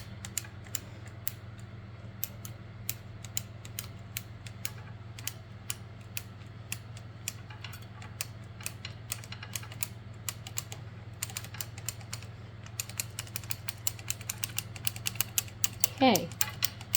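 A hand-cranked circular sock knitting machine works rounds with the heel spring on while forming a wrapped toe, giving steady, close, rapid mechanical clicking and ticking over a low constant hum, growing busier near the end with a brief rising squeak.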